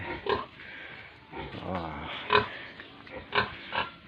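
A pig grunts in short snorting bursts while eating, a few grunts spaced out, close by, with a person talking intermittently in between.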